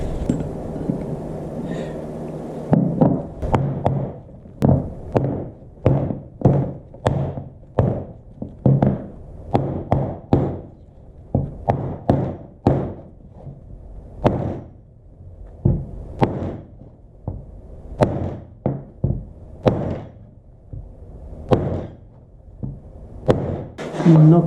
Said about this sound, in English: Knock it a little bit on the side there with the hammer.